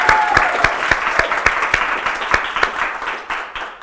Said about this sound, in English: So give them a big round of applause for me as well.